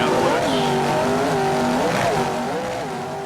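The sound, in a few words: offshore powerboats racing at Daytona Harley-Davidson Offshore Grand Prix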